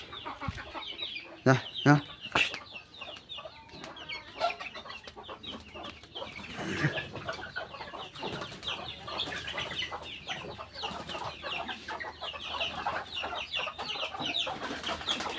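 Free-range desi chickens clucking steadily inside a coop on a chicken farm, with overlapping near and distant calls, a few louder squawks early on and scattered background movement throughout.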